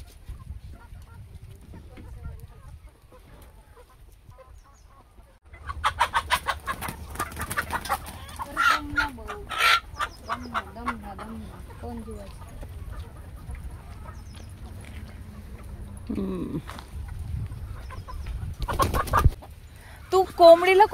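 Hens and roosters cluck and squawk in a farmyard: after a quiet start, bursts of loud, close clucking and fowl calls come in uneven clusters, with occasional sharper outbursts toward the end.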